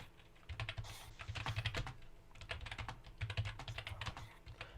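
Typing on a computer keyboard in an irregular run of close, crisp key clicks and taps with brief pauses, steady and fairly quiet, with no voices.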